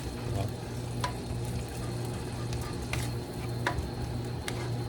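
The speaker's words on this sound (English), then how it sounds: "So stir that up in the butter pretty good, getting heated up" Food frying in butter in a pan, stirred as it heats, with a constant sizzle broken by brief scraping clicks of the utensil.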